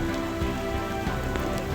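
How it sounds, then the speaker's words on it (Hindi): Heavy rain pours steadily onto surfaces, a dense, constant hiss with scattered louder drops and splashes, close and unbroken. "बहुत तेज़ी से बारिश हो रहा है"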